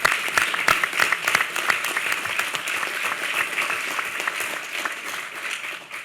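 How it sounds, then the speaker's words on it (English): A room full of summit guests at a New York wine, beer, spirits and cider event applauds steadily for about six seconds, dense overlapping claps at moderate level that taper slightly at the end. "Pause for a round of applause for Cornell,"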